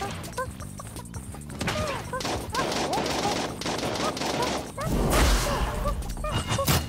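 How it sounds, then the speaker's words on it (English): Rapid overlapping gunfire from several players in the video game Realm Royale, crackling bursts and impacts throughout that swell louder near the end, with a player talking over the shooting. "Damn, how many people are shooting me?"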